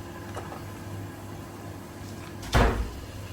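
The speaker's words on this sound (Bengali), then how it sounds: "বাতাসের দরজা লাগতেছে এভাবে।" A single loud bang of a door slamming shut partway through, against a quiet background hiss.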